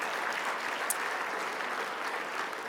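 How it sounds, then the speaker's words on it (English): Audience applause at a charity gala, a steady wash of many hands clapping that fills the whole stretch at even loudness, with no voices standing out. "Yes, it deserves a round of applause."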